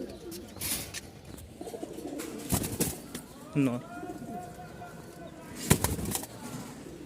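A pair of tumbler pigeons, Rajshahi giribaz birds, coo softly nearby with a brief flutter of wings, while someone talks over them throughout.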